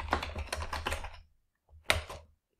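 Keys clatter on a computer keyboard as a chart title is typed, a quick run of close taps for about a second, a pause, then a few more keystrokes.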